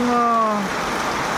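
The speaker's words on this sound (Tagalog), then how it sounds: "Pero grabe ang ulan. Parang buhos na yung" Heavy rain pours down steadily as a broad, close wash of noise during flooding, under a voice speaking.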